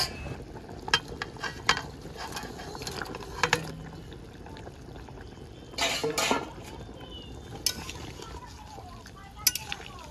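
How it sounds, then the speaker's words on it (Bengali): Fried fish going into a simmering taro curry gravy in a home kitchen: soft bubbling and sizzling with clinks of a spoon against the pot and scattered small clatters. "এবার ভেজে রাখা মাছগুলোও ঝোলে ছেড়ে দেব।"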